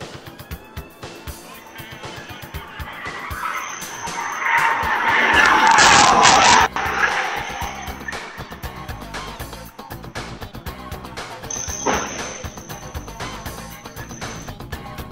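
Surveillance footage of a car speeding through a neighborhood, ending in a crash. Engine roar and a skidding rush swell to a loud peak midway, then a sharp impact follows, with another brief surge later.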